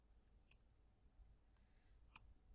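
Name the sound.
computer mouse click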